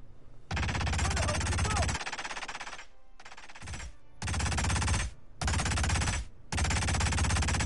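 Sustained automatic gunfire in Hitman's Paris level comes in several long, loud bursts separated by brief pauses, close up and dominating the scene with no talking over it.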